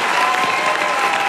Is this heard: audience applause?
yes